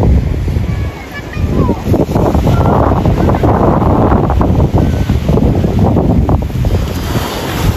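Sea waves wash steadily onto a mangrove seashore, with loud, constant surf and heavy wind buffeting the microphone throughout.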